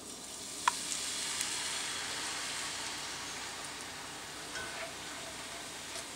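Steady sizzle from a pan of onion, pepper, shrimp and garlic bits deglazed with stock, with a few soft scraping clicks over the continuous hiss; no talking.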